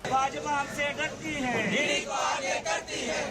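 NCP party workers sit on the street outside the ED office and chant slogans: a loud, dense crowd of voices rising and falling together in rhythmic shouts.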